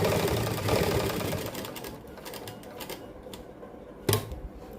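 Sewing machine stitching a sleeve design on fabric, a rapid mechanical clatter that runs steadily, then thins out with a sharp click near the end.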